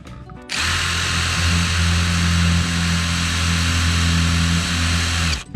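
A battery drill runs steadily in reverse, its bit spinning for about five seconds with a loud, constant motor whine and gear hum, starting and stopping abruptly, while building a pedalboard from scrap wood.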